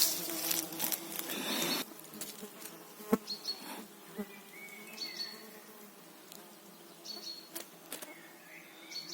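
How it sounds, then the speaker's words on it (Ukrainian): Mosquitoes buzz faintly around a listener on a forest walk, thin whining passes coming and going near the ear, with rustling and a few soft knocks in the quiet woodland. "Не дають комарі спокою мені."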